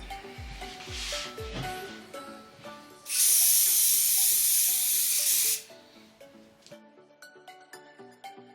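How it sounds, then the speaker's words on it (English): Hairspray hisses in one steady, loud burst lasting a couple of seconds over the top of a styled drag wig, with softer music before and after the spray. "before spraying the top."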